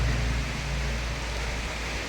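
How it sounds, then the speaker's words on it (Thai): Steady, dense hiss of rain, continuous and even throughout. "ตอนนี้ฝนตก"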